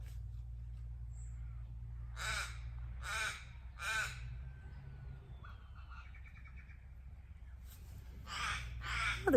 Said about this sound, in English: Oh, the crows are noisy